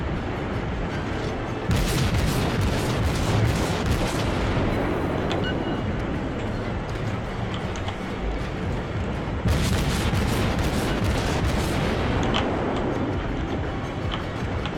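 Naval gunfire in World of Warships, heavy booming salvos that roll out into long rumbling, loud and sustained, with two big volleys a few seconds apart and no talk over them.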